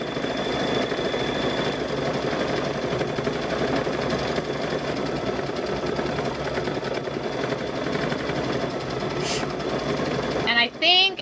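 A sewing machine stitches a fall table runner in a steady, fast, continuous whir that runs close and loud for several seconds, then stops abruptly near the end, followed by brief handling clatter.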